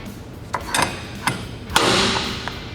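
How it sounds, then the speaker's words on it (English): The vise on a tube bender swings out and snaps back into place, giving a few sharp metallic clicks and knocks close by, with a short ringing tail after the last one. "You should be able to swing the vise out and snap it back into place."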